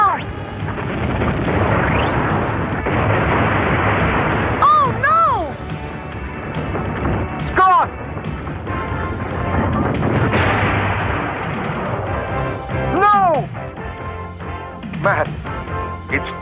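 Sniper gunfire in an old-time radio-style serial drama, with loud booming shots and crashes over a busy, cluttered mix of effects and sweeping tones, voices talking between the blasts.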